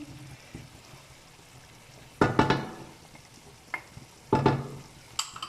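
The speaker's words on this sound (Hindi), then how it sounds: "अब इसको भूनते हैं अच्छी तरह से" Dhaba-style chicken keema is stirred and fried in a pan with garam masala, red chili, black pepper, turmeric and crushed coriander. Soft sizzling runs under intermittent scraping stir strokes that come in short bursts.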